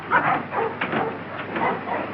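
A dog gives a series of short yips and barks, close and fairly loud, in quick bursts over a muffled background, with no talking.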